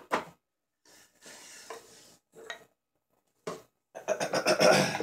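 Spoon knife carving cherry wood for a coffee scoop, scraping in short separated strokes with silent pauses, then a denser run of rapid shaving cuts at the end.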